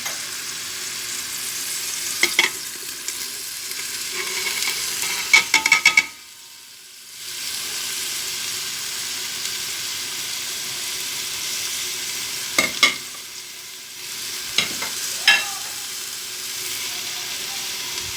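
Onions fry in oil for a dry bean stew, a close, steady sizzle that drops out briefly and then returns, with a spoon clinking against the pan now and then as it is stirred.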